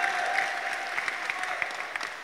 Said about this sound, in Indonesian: Tepuk tangan dulu dong untuk Summer Fights.